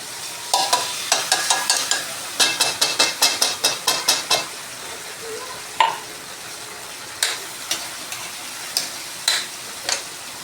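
Sardines go into a pan alongside bottle gourd, giving a quiet sizzle broken by a fast run of crisp clicking taps, then scattered single clicks and scrapes.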